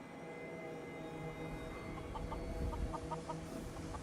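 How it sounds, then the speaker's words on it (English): Chickens in a pen in Fallout 4 cluck in short repeated bursts over a steady low game ambience, moderately close with no talk. "added in some chickens"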